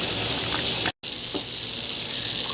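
Shallots sizzling loudly in a sauce pan for a lobster tail and shrimp cream dish, a dense continuous hiss broken by one brief silent gap.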